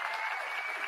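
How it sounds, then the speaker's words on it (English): A CPAC conference audience gives a brief round of applause, a dense burst of many hands clapping. "So give them a round of applause."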